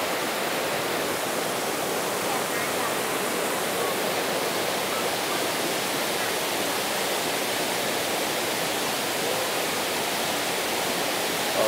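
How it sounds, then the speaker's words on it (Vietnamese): Thác Mây waterfall in Thanh Hoá gives a constant, loud rush of falling water, a dense broadband roar with no pauses from start to end. "Những tầng thác ở đây cực kỳ là đẹp"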